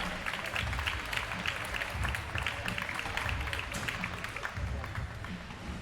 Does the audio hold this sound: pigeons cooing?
no